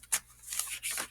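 A tarot card drawn from the deck gives a few quick papery slides and rubs, soft and close, with a brief sharp swipe near the start and another toward the end, alone without talk.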